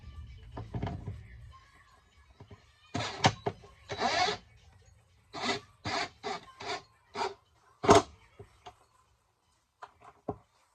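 Sharp clicks and ratcheting squeezes from a caulking gun applying adhesive while a table is installed on a 2023 Tahoe 185S boat. The bursts are separate and irregular, close and fairly loud, and a voice speaks briefly between them.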